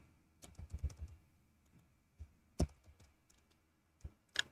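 Keystrokes on a computer keyboard while entering Python code: a quick cluster of close clicks, then a few isolated taps after a pause, soft and near with no talk.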